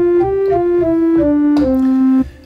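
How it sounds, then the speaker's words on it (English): An English pipe organ sounds its diapason stop, a plain, steady tone playing a short descending line of sustained notes that ends with a brief fade. "the basic sound of an organ, an English organ anyway, is the diapason"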